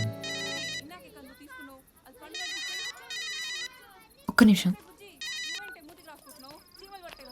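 An electronic phone ringtone chirps in repeated bursts, with a voice speaking between rings and a sharp loud thump midway.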